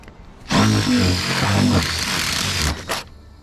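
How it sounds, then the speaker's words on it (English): Power drill boring a hole through a truck camper roof during a solar panel kit install, one loud continuous whine lasting about two and a half seconds close by, then a short extra burst before stopping. "the next step is drilling a hole"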